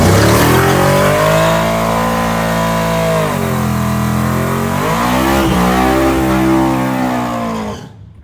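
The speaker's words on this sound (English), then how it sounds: "He need to do another burnout or what?" Street racing car holding a sustained, loud engine rev during a burnout, steady roaring with pitch dips and climbs before cutting off abruptly at the end.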